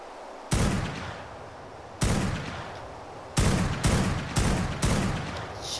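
Gunshots in the ARK video game sound as a series of six loud booming blasts at irregular intervals, each with a short decaying tail over a steady background hum.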